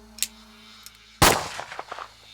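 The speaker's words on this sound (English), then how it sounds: "Welling shot Dr. Hitz dead" A single loud revolver gunshot sound effect in a bedtime story reading, a sharp crack with a ringing, fading tail, preceded by a few faint clicks, with no voice over it.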